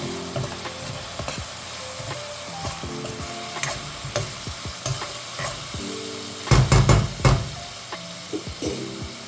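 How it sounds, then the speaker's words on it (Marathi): A ginger, garlic and coriander paste fries in oil in a pan for a palak chicken dish, sizzling steadily while a spoon stirs and scrapes in irregular knocks, with a louder burst of sizzling near the end. "आता हे सर्व आपण चांगलं तेलावर परतून घेऊया."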